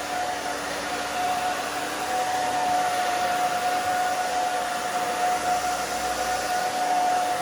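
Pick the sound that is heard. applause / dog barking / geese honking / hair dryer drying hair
hair dryer drying hair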